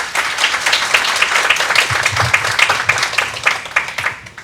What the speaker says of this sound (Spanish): vamos a darle la bienvenida con un buen aplauso